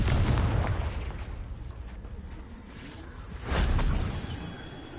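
Fire spell explosion in the Hogwarts Legacy video game: a loud, dense blast that rumbles and decays, followed by a second burst swelling near the end, with no talk.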